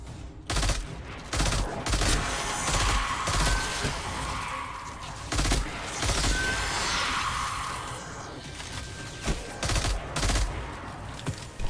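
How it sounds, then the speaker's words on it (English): Gunfire in the Destiny video game, with repeated bursts of rapid shots and heavy single blasts, some close and loud and others more distant, separated by short lulls. "I hear the gunshots."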